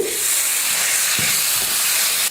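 Chopped carrot and beans sizzle steadily in a hot pan, a continuous close frying hiss with a few soft stirring knocks, then a sharp cut at the end.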